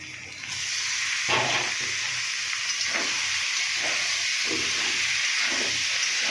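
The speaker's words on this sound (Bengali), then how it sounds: "এই মশলার সাথেই আলু আর সয়াবিন বড়িটা ভেজে নেব" Potatoes and soybean chunks frying in spice paste, a loud continuous close sizzle with occasional soft scrapes of stirring.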